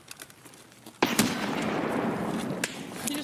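A grenade goes off in a multiplayer shooter game with a sudden loud burst, followed by a long crackling rumble of debris and echo; faint talk can be heard before it.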